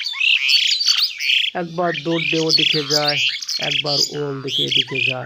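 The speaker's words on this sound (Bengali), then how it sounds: "তখনই পাখিগুলো কিচিরমিচির কিচিরমিচির করে ডাকে।" A flock of birds chirps and squawks near a rooftop beside a jackfruit tree, dense and close, with someone talking over the calls throughout.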